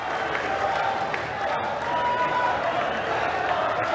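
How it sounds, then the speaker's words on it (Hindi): Large crowd clapping in a steady broadband wash at a tribal mega-gathering in Jhabua, sustained throughout with a faint murmur of voices mixed in. "एक बार ताली बजाकर स्वागत करें"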